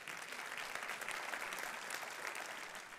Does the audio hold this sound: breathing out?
no